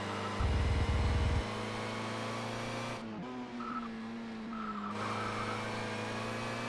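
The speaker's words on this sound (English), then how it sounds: "This car loves to slide around, of course, because it's rear-wheel drive." A rear-wheel-drive touring car in the ToCA World Touring Cars racing game holds a steady engine drone, then slides with a wavering squeal of tires for a couple of seconds before the engine note returns.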